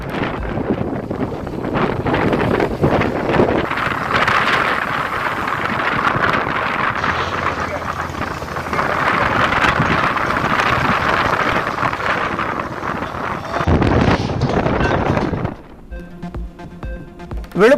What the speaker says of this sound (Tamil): சூறைக்காற்று வீசி வருவதால்